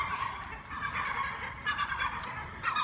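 A seagull calls repeatedly nearby in harsh, squawking cries over a steady outdoor background noise, with no talking.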